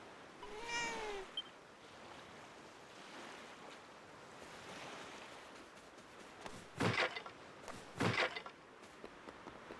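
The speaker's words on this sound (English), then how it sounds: "Cat." A cat meows in the Dragon Quest VII Reimagined video game: one soft, rising meow early on, then two louder, sharper cries later, over a gentle bed of ocean waves and wind.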